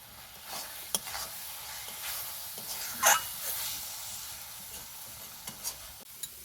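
Carrot sandesh mixture is stirred in a hot pan as Amul milk is poured in bit by bit, producing a low sizzle with scattered spatula scrapes and a brief hissing burst when the liquid hits the pan.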